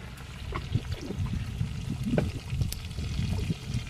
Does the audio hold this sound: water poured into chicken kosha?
yes